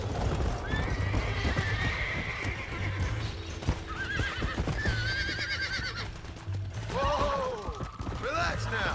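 Horses in Red Dead Redemption neigh and whinny repeatedly over clip-clopping hooves and a busy game soundscape, loud and close, with a voice talking at times.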